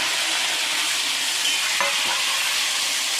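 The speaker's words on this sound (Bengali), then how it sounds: "এখানে চিকেনগুলো প্রথমে ভেজে নেওয়া হচ্ছে।" Chicken pieces frying for chilli chicken give a steady, loud sizzle throughout, with a brief stir or scrape partway through and no talking.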